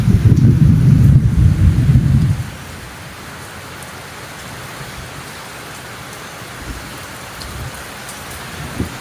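Steady heavy rain falling outdoors in the Philippines, a dense hiss throughout, with a louder rumbling gust or downpour close to the microphone for the first two seconds before settling into constant patter.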